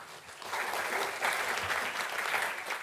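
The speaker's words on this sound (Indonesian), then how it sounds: "Tepuk tangan sekali lagi." Steady audience applause, many hands clapping in a dense, continuous patter that swells slightly midway and holds at a fairly loud level throughout.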